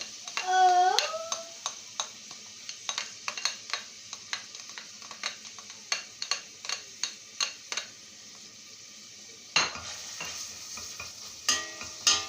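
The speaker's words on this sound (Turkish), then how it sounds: "Havucumuzu da kavuruyoruz." Grated carrot sautéing with onions in a pan for chicken vermicelli soup, with a steady soft sizzle broken by repeated spoon-stirring scrapes and taps, plus a louder clatter near the end.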